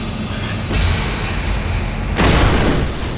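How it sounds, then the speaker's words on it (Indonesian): A car explodes in two heavy, booming blasts about a second and a half apart, each a dense broadband roar that lingers, with a rumbling crackle between them. "mobil yang dikendarain profesor meledak."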